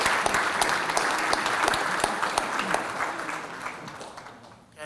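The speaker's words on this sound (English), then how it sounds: "Let's give our parents, family, and support systems a big round of applause," A room of people applauding parents and families at a scholarship awards event, loud continuous clapping with sharp individual claps standing out, fading slightly toward the end.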